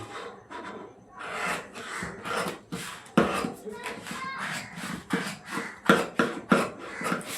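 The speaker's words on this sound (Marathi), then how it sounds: "आता ही बाजू झाली काढून की आपण लगेच कापून घेऊया" Scissors cutting cloth for a single-tuck blouse, with repeated close snips and rasping fabric rubs in an irregular rhythm, moderately loud; faint speech-like sounds appear, though no words are heard.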